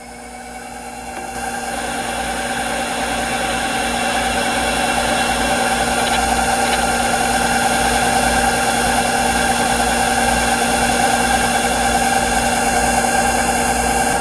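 A lathe with a radius cutting attachment runs at raised RPM near the end of a ball-nose cut, giving a loud, steady machine hum and whine that builds in the first two seconds and then holds with no talk.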